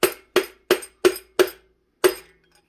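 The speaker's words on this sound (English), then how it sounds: "we're going to start driving that old piston right over the head here." Hammer blows drive an old piston out through the top of an engine block, struck through a chunk of rebar. Six sharp, ringing metallic strikes, five in a steady rhythm and then a last one after a short pause, each decaying quickly.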